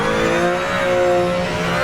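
Race car engine revving hard in Project Motor Racing on PS5, a loud, steady high-pitched howl with strong harmonic whine sustained throughout, no talk.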